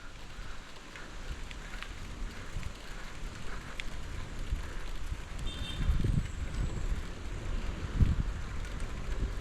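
Light drizzle falls in a forest of trees along a trail, with strong wind, making a steady soft hiss and patter that stays fairly even and close throughout.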